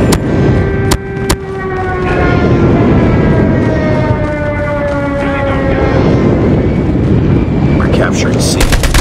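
Airstrike in Call of Duty Mobile: dense, loud roar of aircraft and rumbling explosions filling the whole stretch, with sharp blasts near the start and end and gunfire mixed in.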